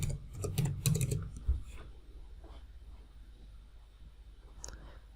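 Fast typing on a computer keyboard, a close quick burst of clicking keys at the start that fades into softer scattered taps over low room hum, with no talking.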